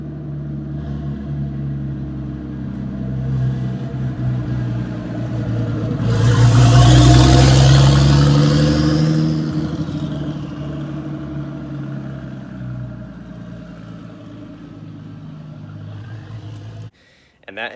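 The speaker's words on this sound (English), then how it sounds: "I actually got the 240SX driving" A Nissan 240SX revs up from a steady idle, swelling to a loud whirring peak before easing back down and settling, with no one talking.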